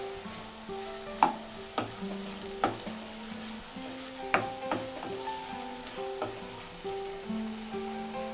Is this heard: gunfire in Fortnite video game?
no